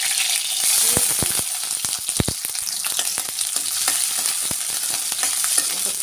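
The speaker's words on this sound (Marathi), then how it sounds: "चला फोडणी टाकूयात." Cumin, mustard seeds, curry leaves, garlic and chili hit hot oil for a tempering, a loud, close, continuous sizzle with sharp crackling pops bursting throughout, no talking.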